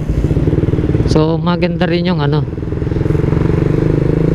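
Suzuki Raider 150 Fi motorcycle riding along a street, its engine putting out a rapid, steady buzzing throb close by, with someone talking over it.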